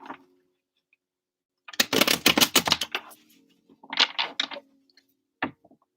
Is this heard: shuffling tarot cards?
yes